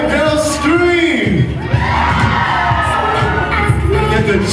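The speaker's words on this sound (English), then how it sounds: "All the girls scream." Women and girls in a nightclub crowd scream and whoop loudly in a sustained, shrill wall of cheering at a live comedy show, with a few shouted voices rising over it.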